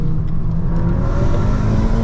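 A tuned 400bhp VW Golf R with a 2-litre turbocharged engine accelerates hard, its engine a loud, steady, rising drone heard from inside the car with the window down, road roar filling the low end.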